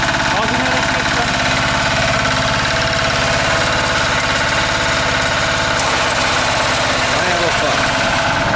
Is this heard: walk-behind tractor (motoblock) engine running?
yes